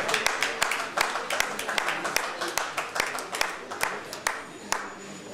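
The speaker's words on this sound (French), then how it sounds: "Vous applaudissez Daniel." An audience applauds after a poetry recital. The clapping is steady and fairly close, with sharp individual claps in a brisk, continuous patter.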